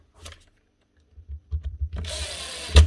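A worn, well-used power tool motor, brought in for repair, runs briefly after a few clicks and knocks, giving a rough, raspy whir that ends in a sharp clatter.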